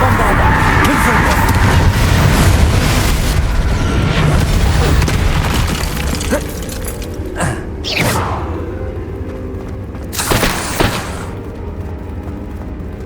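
Bombarda and Confringo spell blasts in Hogwarts Legacy, a run of loud, dense booms and bursts that fill the first few seconds, then scattered sharper cracks and impacts amid game noise.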